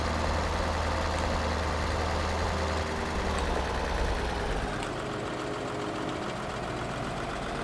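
A tractor engine in the farming video game Farming Simulator 2013 drones steadily and fairly loudly, with a low rumble that drops away partway through while the motor keeps running alone.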